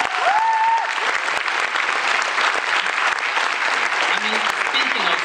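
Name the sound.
audience applause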